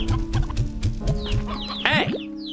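Hens in the video game Slime Rancher 2 cluck in a quick rhythmic series of short, close clucks, followed by a louder squawk near the end, with no talking.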